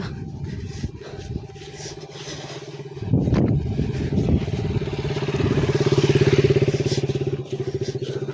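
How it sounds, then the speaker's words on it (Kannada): A Duke motorcycle engine rumbles nearby, growing louder and higher as it approaches and passes on a foggy Kappatagudda hill road, over a low background drone. "ನೋಡ್ರಲ್ಲ ಡ್ಯೂಕ್ ಬೈಕ್ ಬಂತ"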